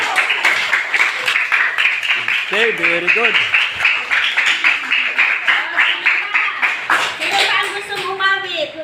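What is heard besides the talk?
children clapping hands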